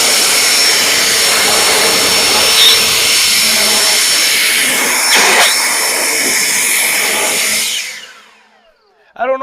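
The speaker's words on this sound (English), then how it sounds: "I'm really impressed with this Eagle leaf blower" An Eagle leaf blower runs close by with a loud, steady roaring rush of air for several seconds, then winds down and cuts off near the end.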